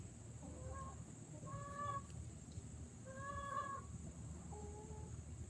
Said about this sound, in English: they go to the chicken area.